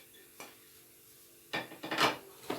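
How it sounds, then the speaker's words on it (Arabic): Lemon peels and half a kilo of sugar are stirred together in a bowl, giving scraping, clinking utensil-on-dish sounds in a few close bursts after a quiet start. "غنزيد عليهم داك نص كيلو ديال السنيده ديالي ونخلطو مزيان"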